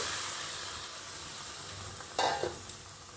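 Pre-boiled mixed dal tipped into fried spice paste in a pan, giving a soft steady sizzle and hiss, then a brief louder burst of splashing and stirring near the end.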